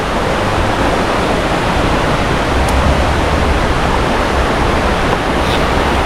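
River flowing near a campsite at Hulugan Falls after rain, a loud, dense, steady rush of water with no pauses and no voices.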